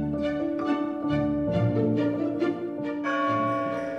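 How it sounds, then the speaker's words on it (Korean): Church bells at Sant Felip Neri church in Barcelona ring in repeated overlapping strikes, their long tones humming on between blows, loud and close with no talk. "종소리가 들리는 방향으로 걸어가다 보면 가우디가 사랑했던 산 펠리페 네리 성당과 산 펠리페 네리 광장에 다다릅니다."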